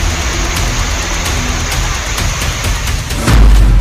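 Heavy rain pours down in a loud, dense wash, with scattered knocks and rumbles and a deep low thud near the end.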